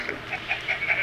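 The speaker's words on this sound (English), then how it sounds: "Look at these chickens." Several video game chickens in a barn in Minecraft-style game ShadowCraft 2.0 cluck and squawk in short repeated bursts over a steady background hum, close and fairly loud.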